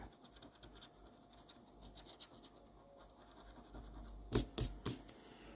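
Scratching at an FDJ scratch-off lottery card gives a faint, steady rub for several seconds, then three sharper, louder scrapes close together near the end; no voices.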